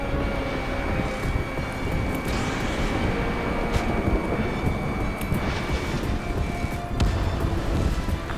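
Fighter jet flying in Ace Combat 7, a loud continuous engine roar with whooshing turbulence and scattered crackling bursts throughout, steady and close.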